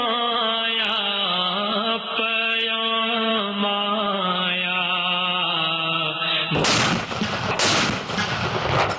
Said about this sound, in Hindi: दिन का आगाज तोपों की सलामी से हुआ।